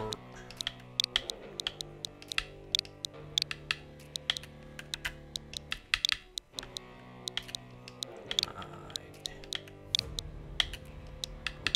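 Search text being typed on a keyboard while setting up a Nintendo Switch OLED, close crisp key clicks in quick irregular bursts with a short pause midway and a low steady hum beneath.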